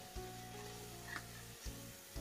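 Spices roasting in hot oil for a jackfruit curry give a steady close sizzle, with a few sharp stirring scrapes and clicks along the way.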